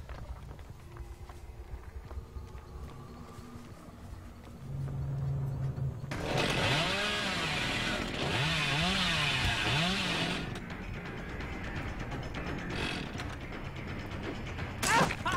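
Chainsaw in a video game starting up, a revving, buzzing motor that swells and wavers for several seconds after quieter background sounds, then drops back with scattered mechanical noises.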